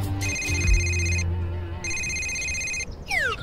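A mobile phone rings with an incoming call, its electronic ringtone repeating in two loud bursts separated by a short gap, with a low steady hum beneath and a rising chirp at the end.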